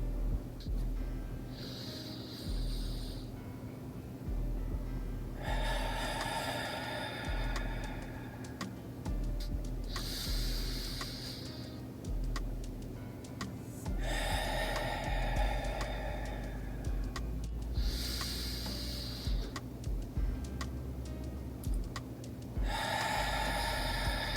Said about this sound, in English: I encourage you to take 3 deep breaths with me